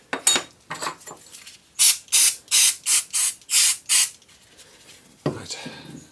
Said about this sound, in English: Joy of brake cleaner, it just evaporates, so you can spray it onto your worktop